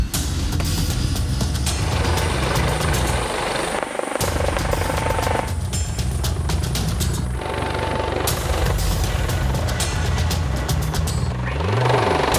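Helimed 58 air ambulance helicopter in flight, a loud continuous rotor and turbine drone with rhythmic blade chop, heard close and steady throughout with brief shifts in tone.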